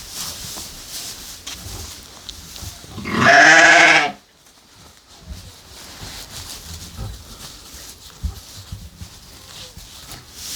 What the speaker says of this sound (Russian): Такой большой баран красивый ты.